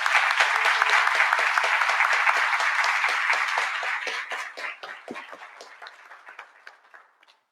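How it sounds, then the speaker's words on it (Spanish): Warm audience applause at a university forum on sexual diversity and political participation, loud and full for several seconds before thinning into a few scattered claps and dying away. "Un fuerte aplauso para María Reynoso"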